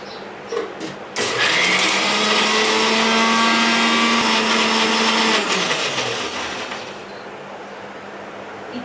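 A mixer grinder whirs steadily while blending green chillies and coriander for a Malvani fish curry, a loud continuous motor roar running about six seconds before winding down, with no talking.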